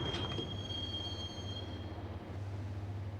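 A train ride in the video game Max Payne: a steady, close rumble of wheels on track with a thin, sustained high metallic whine running over it, no voices.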